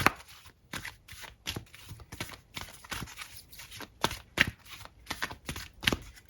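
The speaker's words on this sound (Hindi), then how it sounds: "थोड़ा सा शफल कर लेती हूँ, वापस आ जाएंगे" Tarot cards being shuffled by hand: a rapid run of crisp, riffling card flicks and slaps, close and clear, steady and rhythmic throughout with no speech over it.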